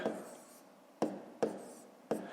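Pen or pencil strokes on paper while a math exercise is worked out by hand, heard as four short, close scratching taps spaced about half a second apart over a soft room background.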